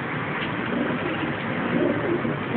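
Pigeons from a Greek fancier's breeding loft coo and murmur in a steady, dense mass of overlapping calls with no clear breaks, moderately loud and close.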